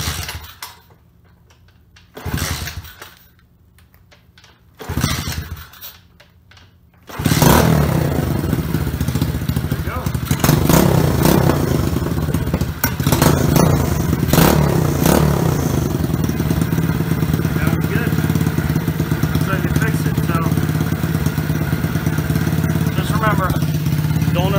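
Small engine with a newly replaced carburetor starts unchoked after a few short cranking attempts, then settles into a steady, loud idle that runs on alone.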